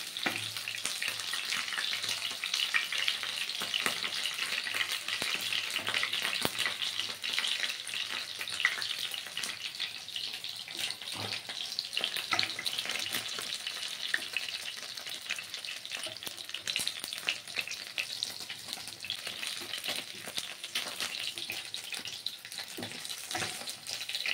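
Bhola fish pieces frying in hot oil give a steady, close crackling sizzle that runs unbroken throughout, with occasional louder pops and light clinks from turning the fish.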